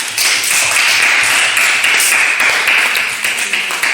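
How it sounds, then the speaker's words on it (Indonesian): A classroom of students claps together after a group presentation, a dense, steady patter of many hands that stays loud and continuous throughout, with faint voices mixed in. "tepuk tangan."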